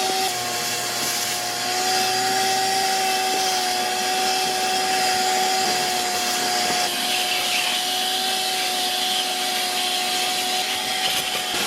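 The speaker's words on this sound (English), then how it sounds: "let's get the vacuum and see how much of this we can clean up with the vacuum" A vacuum cleaner runs steadily and loudly nearby while sucking debris out of an ex-police Ford Raptor, its whine holding constant with slight shifts as the nozzle moves.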